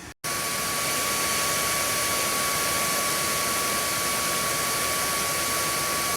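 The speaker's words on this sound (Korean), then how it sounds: "이 팬 소음을 마이크를 접근시켜서 좀 리얼하게 들려드리겠습니다" A 40mm cooling fan on a Z490 ITX motherboard spinning very fast, heard close up as a loud, steady, hissing whir that holds constant with a faint high whine, starting and stopping abruptly.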